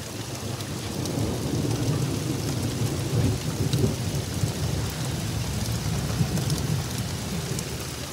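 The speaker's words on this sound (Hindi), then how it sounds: "बारिश तेज़ हो गई है।" Heavy rain pours continuously, a dense steady roar of drops hitting surfaces, with a low rumbling undertone throughout.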